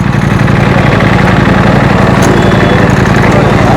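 A Ducati motorcycle engine idles loudly and close by, a dense, steady mechanical rumble with a rapid pulsing beat held through the whole stretch, with a voice faintly mixed in underneath.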